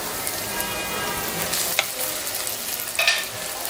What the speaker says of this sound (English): Now next, I'm going to add is the anchovies.